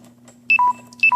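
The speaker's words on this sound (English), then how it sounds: "And my phone's about to die." A smartphone sounds its low-battery warning in a workshop during motorcycle maintenance: two repeated sets of bright electronic beeps, each stepping down in pitch, clear and close over a low hum.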